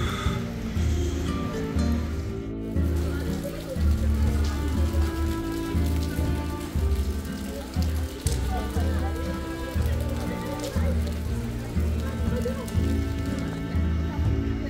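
Rain pours down steadily and loudly in Shimla, a dense continuous patter with no breaks, along with other indistinct sounds beneath it.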